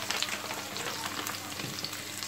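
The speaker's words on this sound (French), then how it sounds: "je vais juste prendre ma sauteuse et essayer de remuer sans utiliser la cuillère en bois" A sauté pan of food is tossed instead of stirred with a spoon, giving a dense, close sizzle with brief rustling surges through about two seconds and no speech.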